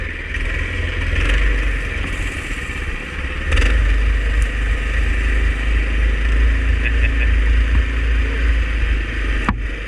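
A Massimo MudStar MB200S mini bike runs along a forest trail, its small engine droning steadily and loudly up close with brief throttle surges, someone speaking now and then over the motor.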